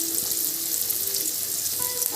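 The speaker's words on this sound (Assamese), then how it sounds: "এইখিনি এতিয়া অলপ সময় ভাজি ল'ব পিঁয়াজখিনি" Onions sizzling and frying steadily in a hot pan, the first step of a home-cooked Assamese-style local chicken curry; a continuous close hiss with occasional crackles and faint stirring, no talk.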